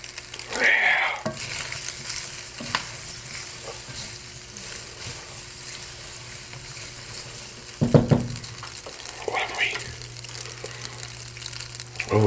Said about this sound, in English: Can you hear the ones on the bottom frying?